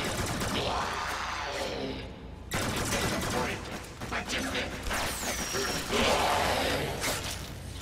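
Dense gunfire from every direction in the shooter game Warframe, crackling bursts and mechanical clatter layered continuously with game effects and occasional voice chatter.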